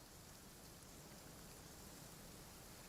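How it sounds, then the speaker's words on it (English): Steady rain pouring down in Genshin Impact's Fontaine region, a dense even hiss of drops on surfaces with no break, fairly close and moderately loud throughout, with no voices. "It's raining."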